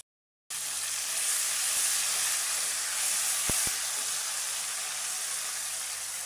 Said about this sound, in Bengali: পেঁয়াজগুলো আমি এখন সুন্দরভাবে ভেজে নিব, তেলে দিয়ে দিলাম।